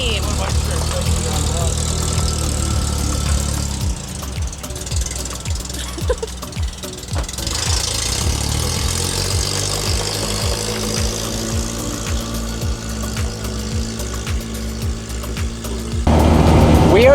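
A Yeti's engine runs steadily while driving on an overland road trip after a mid-trip transmission swap, giving a continuous low rumble with some rattling and knocks, loud and close throughout.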